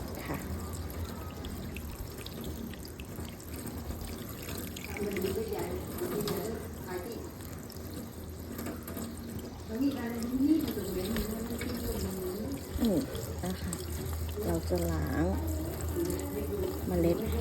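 Gymnocalycium cactus seed pods rinsed and rubbed under a running tap, a steady close stream of water splashing into a sink throughout, with someone talking over it.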